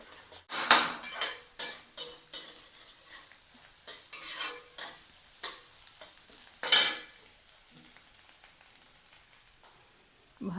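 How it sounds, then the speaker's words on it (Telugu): Egg for fried rice sizzles in a pan as a spatula scrapes and clanks against it in quick repeated strokes, close by, then the stirring fades to near quiet. "ఎగ్ బాగా ఫ్రై అయిపోయింది ఫ్రెండ్స్"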